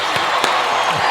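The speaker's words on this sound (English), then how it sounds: "And the crowd goes wild." A studio audience at a podcast taping claps and cheers as a guest is introduced, a short burst of broad, steady applause with a few whoops rising over it.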